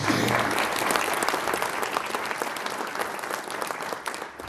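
Warm audience applause at a municipal election meeting in Bessan, a dense burst of clapping that starts loud and gradually fades over a few seconds.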